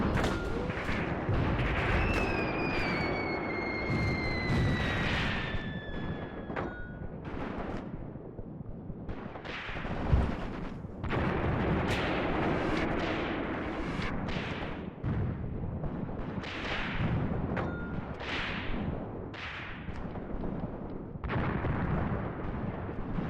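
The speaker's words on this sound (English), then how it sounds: "the enemy are bombarding our batteries" Enemy artillery shelling gun batteries in Graviteam Tactics: Mius Front. Dense, continuous rumbling bombardment with repeated muffled blasts and one sharper impact, plus whistling shells passing early on.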